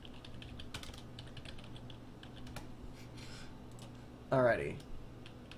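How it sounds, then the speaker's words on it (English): Light, rapid keystrokes on a computer keyboard patter faintly and close by, and someone says a single brief word near the end. "one second, I'm going to type something"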